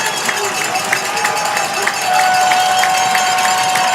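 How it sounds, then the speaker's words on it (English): A crowd at a Neenah at Kaukauna high school football game keeps up loud, continuous cheering and scattered clapping, swelling halfway through, under an announcer's commentary. "And this crowd is electric."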